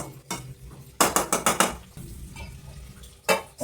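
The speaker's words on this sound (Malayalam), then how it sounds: "മൂടി വെക്കട്ടെ" A lid set onto a cooking pot: a quick burst of metallic clanks and rattles, then a quieter pause, and a final sharp clatter near the end, all close up with no speech.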